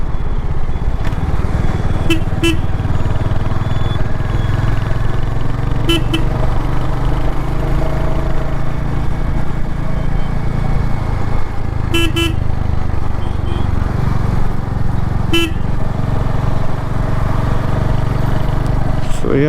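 A Royal Enfield Hunter 350 motorcycle is ridden on the road, its engine droning loudly and steadily throughout with wind rush, while several brief horn toots sound from nearby traffic.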